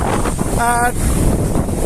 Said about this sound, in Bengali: এত বাতাস, বাংলাদেশে এত বাতাস কমন না